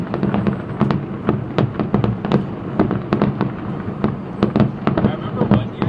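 Canada Day fireworks over Edmonton burst in a rapid, irregular barrage of sharp cracks and booms, a dozen or more explosions overlapping a steady background crowd murmur at a moderate distance.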